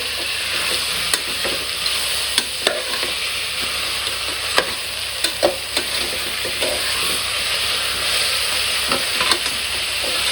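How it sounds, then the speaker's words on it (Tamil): Tomatoes sautéing in a pan for pressure-cooker chicken biryani, with a strong steady sizzle broken by regular sharp clicks and scrapes of a spoon stirring, close and with no voices. "தக்காளி போட்டு நல்லா வதக்குங்க தக்காளி நல்லா வதங்கணும்"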